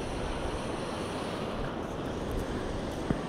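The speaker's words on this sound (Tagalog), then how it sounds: "Dito na kami sa ilog mga kapain." Outdoors beside a river, a continuous broadband wash of flowing water and wind buffeting the microphone, steady and fairly loud throughout, with a faint knock near the end and no talking.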